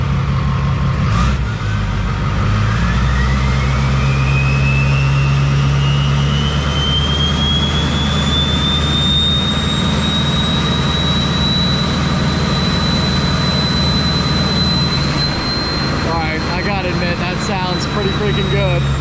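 Duramax diesel pickup engine with a rolling-coal tune revving hard, a loud sustained roar with a rising turbo whine like a jet, steady throughout with brief voices near the end.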